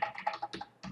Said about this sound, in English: and then we start typing our content.